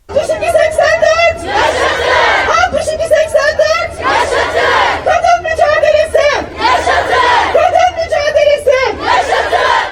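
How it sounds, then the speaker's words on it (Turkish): Women's applause and ululation close a street rally against male violence in a town square, with shrill, wavering trills rising in repeated loud bursts over steady crowd clapping and chatter. "Açıklama kadınların alkış ve zılgıtlarıyla son buldu"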